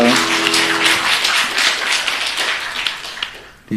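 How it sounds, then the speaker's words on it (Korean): A church congregation claps during a Sunday morning worship service, a short burst of dense applause that starts at full strength and thins toward the end, with a brief tone at the start. "우리 하나님께 영광의 박수 올리겠습니다"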